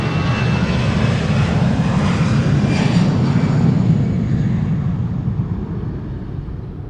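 A jet airliner departing Amsterdam Schiphol Airport roars loudly and steadily on takeoff, its engine noise holding strong before slowly fading as it climbs away.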